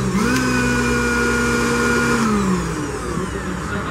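A blender motor, its switch wired directly after failing to work, runs with a steady loud whine and hum that holds for about two and a half seconds and then winds down.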